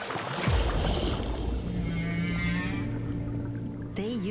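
Deep underwater humpback whale calls: a low swooping moan followed by long sustained tones, ending in a wavering high warble, against watery background noise.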